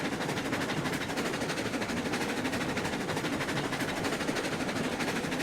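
Train rolling along rails in the RailRoads Online game, a steady dense clatter and rumble that holds at an even, fairly loud level throughout with no talk over it.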